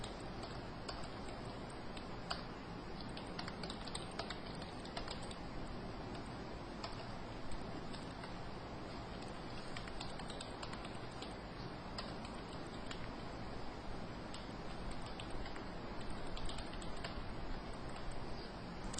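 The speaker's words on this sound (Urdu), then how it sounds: "آپ ڈمی نام اپنی مرضی سے کوئی بھی ٹائپ کر دیں" Someone types data into an Excel spreadsheet on a computer keyboard, making steady, irregular soft clicks that continue throughout under a constant background hiss.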